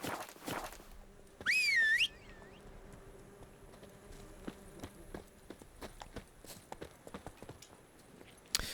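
Roach the horse walks with soft, scattered hoof clip-clops in The Witcher 3 game, faint and irregular, with a brief whistle near the start and quiet ambient game sound.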